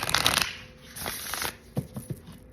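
Playing cards are shuffled up close in several quick, crisp riffling bursts separated by short pauses, with no one talking.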